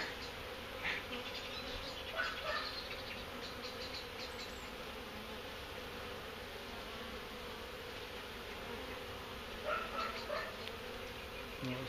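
Honeybees buzz in a steady, dense drone around a hive entrance where workers are fanning, a continuous close hum with a few louder passes near the start and end.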